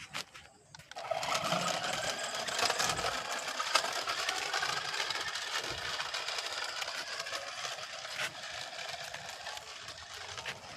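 The electric motor of a toy RC Hummer car whirs continuously as it drives along a road, a thin buzzing hum with faint rattle that stays fairly even and moderately quiet.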